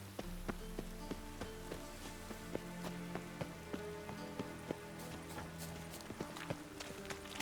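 Steady rain patters across the scene in The Witcher 3 while a horse's hooves clip-clop in an even trotting rhythm close by, the two layered together for the whole stretch with no talk.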